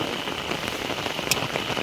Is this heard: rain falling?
yes